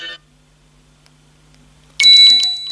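HTC One M9 smartphone alarm tone cuts in after a short silence, a bright electronic melody of pulsing notes sounding loud and close with no voices.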